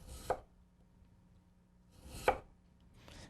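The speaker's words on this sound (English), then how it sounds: "I'm going to start with my tip of the knife, and I'm going to slide down through, and I'm going to cut 1/8 inch planks." A knife slices vegetables into 1/8 inch planks on a cutting board, giving three crisp, separate chops spaced about two seconds apart, close and fairly quiet with near silence between.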